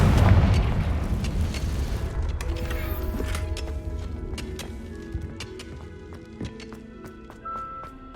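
A Confringo blasting spell going off in Hogwarts Legacy, a loud rumbling explosion at the start that decays into scattered crackles, clinks and small debris impacts over several seconds, with no talk.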